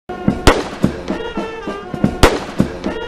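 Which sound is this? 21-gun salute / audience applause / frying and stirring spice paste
21-gun salute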